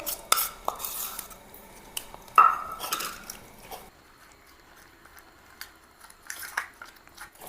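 Potato slices are stirred into soaked garlic chutney in a metal dish, producing a few clinks and scrapes of utensil on metal up front, then faint, scattered stirring noises.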